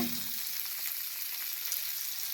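Bangude mackerel fries in oil in a pan, a continuous soft, hissing sizzle that is fairly faint and steady throughout, with no voices.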